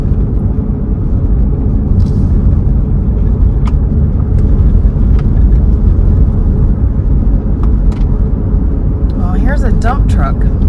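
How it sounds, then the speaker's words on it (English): A dump truck passes on a road near new home construction in Winter Garden, close to Disney World, under a steady, loud rumble of engine and road noise that lasts the whole stretch, with a few faint higher sounds near the end. "Dump truck."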